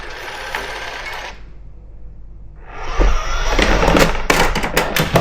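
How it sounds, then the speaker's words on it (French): A Narwal Flow 2 robot vacuum mop heading back to its base, a mechanical whir that drops into near silence partway through, then returns louder with clicks and knocks as it moves along. "L'aspirateur retourne à sa base."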